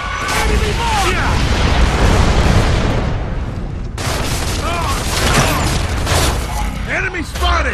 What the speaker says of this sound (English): Mortar! Enemy mortar!